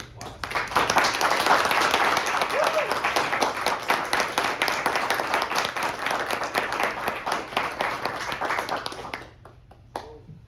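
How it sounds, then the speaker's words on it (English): An audience applauds to welcome a student giving his senior music presentation, a dense wash of clapping that swells early, holds steady for about nine seconds, then fades abruptly near the end. "So please welcome him with a warm welcome of applause."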